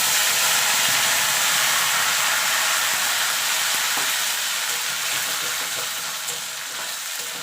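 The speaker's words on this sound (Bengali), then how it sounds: "এবার আদা কাঁচা লঙ্কাটাকে একটুখানি ভাজা ভাজা করে নেবো" Ginger and green chilies fry over low heat in a pan for Bengali bhoger khichuri, a loud, continuous hissing sizzle with faint crackles that eases slightly toward the end, with no one speaking.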